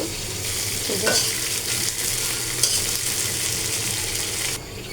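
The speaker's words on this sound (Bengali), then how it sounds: "এখানে আমি রোস্টগুলো ভেজে নিচ্ছি" Pieces of chicken roast frying in hot oil, a dense continuous sizzle with occasional stirring scrapes and a spatula knock, close and fairly loud, no voices.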